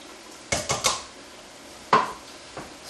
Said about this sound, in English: Now we're going to add a cup of long grain white rice.